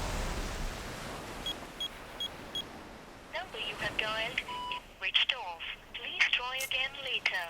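A few short electronic tones from a phone call that fails to connect come first, then someone speaks nearby over a steady background hiss.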